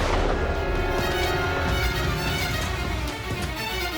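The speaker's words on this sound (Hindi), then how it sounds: "इसके जाने के थोड़ी देर बाद ही गोली चलने की आवाज आई" Gunfire rings out as a dense, rumbling burst of shots and booms, loud and continuous for a few seconds with no talking.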